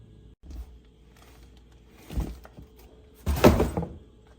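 A Traxxas Slash RC truck is pulled from its cardboard packaging, giving a few dull thumps and rustling handling bumps, the loudest near the end, in a quiet room.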